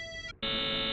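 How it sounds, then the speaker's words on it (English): A loud electronic buzzer blares over a phone in the visual-novel game CHAOS;HEAD NOAH, cutting in abruptly after a ringing melody stops and holding a harsh, steady drone to the end. "I heard what sounded like a loud buzzer."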